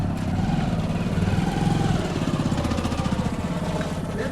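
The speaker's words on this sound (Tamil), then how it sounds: "ஏய் வண்டி வருது" A motor vehicle engine drones steadily nearby with a rough, throbbing rumble that stays fairly constant, heard outdoors during a game.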